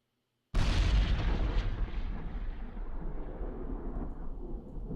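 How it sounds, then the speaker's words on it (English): A bomb power-up explosion sound effect from a video game bursts suddenly with a loud booming crack, then rumbles and slowly fades over several seconds without any other sound. "so there's the explosion"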